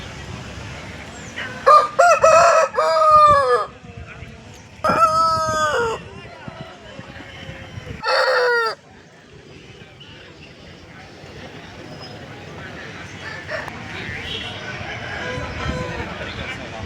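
Roosters crow loudly and repeatedly at a busy hen market, several long cock-a-doodle-doo calls in the first half with clucking and crowd chatter throughout.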